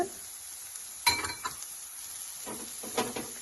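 Shredded cabbage with ginger garlic paste sautéing in hot oil for a spicy paratha stuffing, a steady close sizzle with a few sharp clinks of a spoon against the pan.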